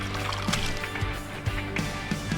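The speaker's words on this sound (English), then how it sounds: "and then you flush when you're done." An RV toilet flushes water down into its holding tank: a close, steady slosh and gurgle with a few louder surges of rushing liquid.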